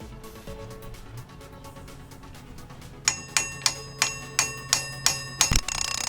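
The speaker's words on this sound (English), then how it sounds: "So we're going to tap that in very gently." Pilot bearing gently tapped into place during a Lexus SC300 clutch build: about eight evenly spaced, ringing metallic taps, close and fairly loud, each with a short bell-like decay after a quieter stretch.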